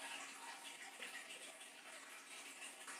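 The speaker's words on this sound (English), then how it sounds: "here I am squeezing in my lime" Lime juice squeezed and dripping into a blender of mango sauce ingredients, a steady soft wet trickle and patter held close throughout, with no talk.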